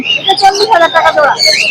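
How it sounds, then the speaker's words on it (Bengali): Caged birds at the Mirpur 1 bird market chirp and tweet loudly and close by in quick overlapping calls, with a faint low coo. "আপনারা চাইলে এখান থেকে বেছে বেছে পাখি নিতে পারেন। পাখির বাচ্চা সুন্দর সুন্দর পাখি আছে, দেখতে পারেন।"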